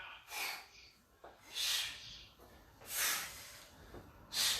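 Forceful exhales during a workout exercise, four sharp breathy bursts spaced about a second apart, close and fairly loud over a faint background.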